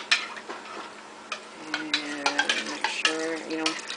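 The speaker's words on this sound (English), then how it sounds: "Give it a stir." A spoon scrapes and stirs through beef stroganoff sauce in a pan, giving irregular close clinks and scrapes with a light sizzle underneath, louder toward the end.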